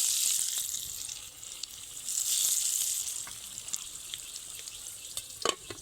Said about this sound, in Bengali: নেড়ে নেড়ে হালকা হালকা ব্রাউন কালার করে সবগুলো রসুন ভেজে নিয়েছি